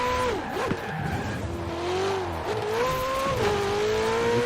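A Cadillac Escalade engine in Forza Horizon 4 revs and shifts through gears during a race, its pitch rising and falling steadily with tire squeal mixed in, loud and continuous with no talking.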